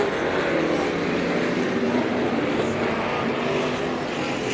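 Figure 8 race cars roaring through traffic at a West Coast Figure 8 Championship race, a dense, continuous engine drone from several cars at once, loud and fairly close.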